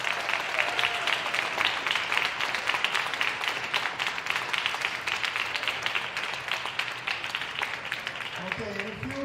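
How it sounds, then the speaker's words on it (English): A squash match audience applauds steadily at a tournament semi-final, a sustained mid-distance patter of many hands, with a voice entering near the end. "big round of applause for Joelle King."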